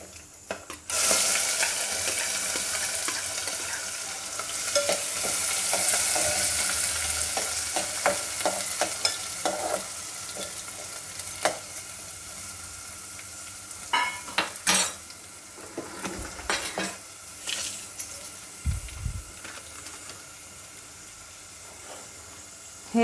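Onion goes into hot oil with dry spices for a Solapuri dalcha, a steady close sizzle with scattered clinks and scrapes of a utensil against the pot, continuing alone without speech.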